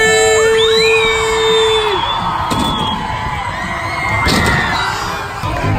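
Children at a school BMX show scream and cheer together in a loud, close crowd roar, with rising whoops and a few sharp bangs mixed in.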